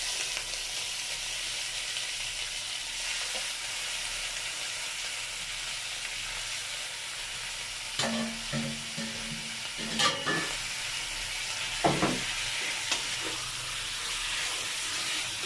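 Pork and garlic sauté in a hot pan with a steady broadband sizzle throughout, broken by a few louder stirring scrapes and bursts near the end; no talking.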